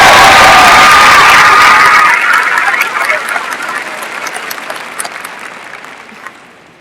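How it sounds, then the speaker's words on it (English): A commencement audience gives loud applause with some cheering and whoops for the band and chorus, then the clapping thins and fades out over the last few seconds. "join me in another round of applause for the commencement band and chorus"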